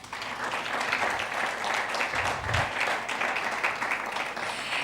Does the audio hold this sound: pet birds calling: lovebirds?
no